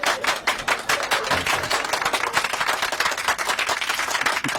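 A single person claps rapidly and steadily for several seconds, up close and alone, with no talk over it.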